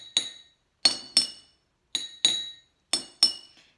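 Glasses filled with different levels of water struck one after another, about seven bright ringing clinks at differing pitches, some in quick pairs, each decaying quickly in a quiet room.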